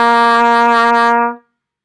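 A single sustained low C on a trumpet, held steady and loud for just over a second before it cuts off cleanly into silence.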